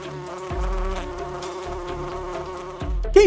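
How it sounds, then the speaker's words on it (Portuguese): Flies buzzing inside a closed room at a death scene being cleaned, a steady, close drone with wavering pitch that swells and shifts as insects move near, with a few low thumps and a brief rising whine at the end. "E o silêncio é quebrado apenas pelo zumbido das moscas."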